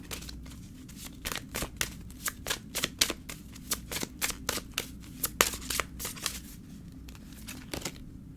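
Tarot cards are shuffled by hand close up, giving a quiet, rapid patter of riffling and flicking card sounds that continues steadily for several seconds with no talking.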